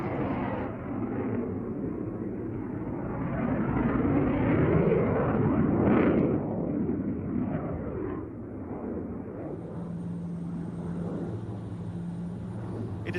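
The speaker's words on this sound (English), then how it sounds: "within a few seconds the F-18 will catch up and they will come back for another" An F-18 Hornet jet and a PC-7 propeller trainer fly past in formation at an air show. The broad roar swells to a loud peak near the middle, then fades, and a faint steady tone lingers at the end.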